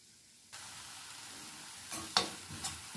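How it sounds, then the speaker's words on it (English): Pork chops hit a hot skillet along with their marinating liquid, a steady soft sizzle rising suddenly and carrying on, broken by a few louder spits and stirring scrapes, near and without talk. "I'm going to put all the 4 pork chops back in there. And again, we're going to use our marinating liquid."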